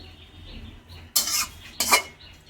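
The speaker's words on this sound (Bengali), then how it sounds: "কড়াইতে তেল দিয়ে দিচ্ছি" Oil goes into a hot kadai, two bright bursts of hissing splutter landing about a second apart over a low kitchen hum, each fading quickly.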